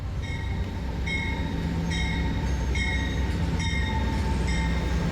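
Amtrak Coast Starlight train at San Jose station rumbles steadily nearby while a repeating high electronic chime or bell pulses at regular intervals over the low rolling noise, with no talk.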